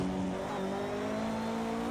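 Bentley Speed 8 race car engine at Bathurst in Project CARS 2, a loud sustained engine note with shifting harmonic tones, heard alone.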